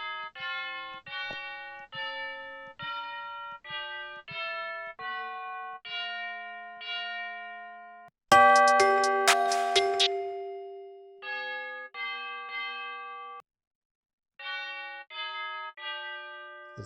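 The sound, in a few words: tubular bell sample played in FL Studio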